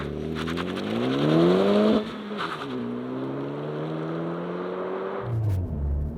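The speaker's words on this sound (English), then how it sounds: "so I have my foot flat on the floor and you can see it holding revs there" A 2023 Honda Civic Type R engine holds high revs on launch control, then climbs sharply in pitch as it accelerates hard, drops briefly at a gear change and pulls again, loud and close.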